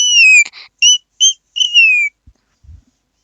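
A person whistling in imitation of a bird: a few loud, close, high chirping notes, some sliding down in pitch, in short bursts, then silence apart from faint thumps.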